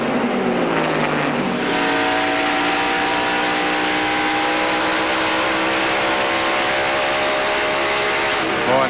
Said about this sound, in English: Boy, that motor is turning up some RPM.